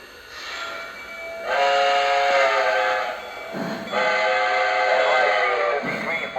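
A Lionel Visionline 700E Hudson 4-6-4 model locomotive sounds its steam whistle in several long, loud blasts. Short gaps and chuffing running noise separate the blasts.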